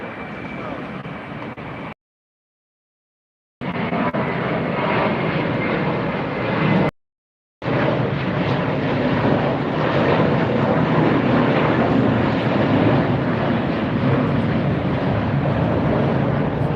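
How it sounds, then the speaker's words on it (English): A Hawaiian Airlines airliner arriving at LAX, its engine roar loud and steady, cut by two brief silent gaps, with talk running over it at times. "See Hawaiian Airlines coming in"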